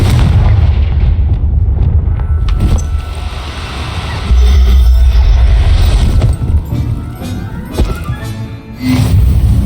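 A fire-blast spell in the Hogwarts Legacy video game goes off as a loud, dense boom, then rumbling blasts and crackling impacts keep going through the whole stretch, close and heavy, with no voices.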